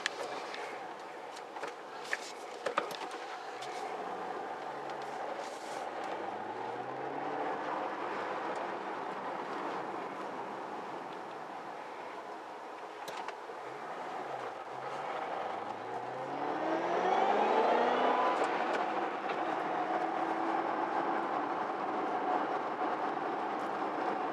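A 2008 Ford Mustang Shelby GT500 supercharged engine drones steadily from inside the cabin, then revs up with a rising supercharger whine as it accelerates, pitch climbing strongly near the end.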